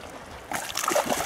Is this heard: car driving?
no